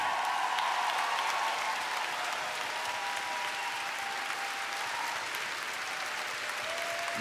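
Audience applause at the Zelta Mikrofons 2023 award ceremony, a dense, sustained wash of many hands clapping heard from a moderate distance, steady in level with no pauses or voices on top.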